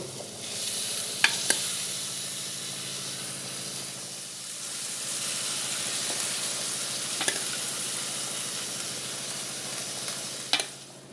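Boiled dried peas frying in masala for aloo motor ghugni give off a steady, hissing sizzle throughout, with a few brief sharp clinks of a spoon against the pan.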